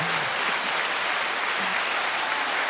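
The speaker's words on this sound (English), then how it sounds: "Is this going to be like a film festival applause where it's 10 minutes?" A small audience applauds at a film review show, a steady, dense hiss of clapping at an even level across the short stretch, with no voices over it.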